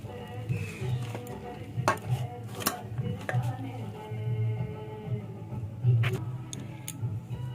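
Cabbage pakora batter mixed with Maggi masala in a bowl by hand, with soft squelching, scattered utensil clicks and taps close by, and light speech in the background.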